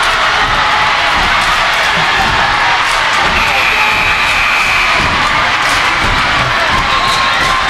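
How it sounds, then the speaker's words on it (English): A home crowd in a high school boys basketball gym roars with loud, sustained cheering and shouting, with youthful yells and whoops throughout and a few voices talking over it. "As the Northeast crowd gets into it."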